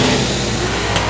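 Dirt-oval race car at Boyd Raceway, the engine roaring loud and steady as it accelerates out of turn four under green-flag heat racing.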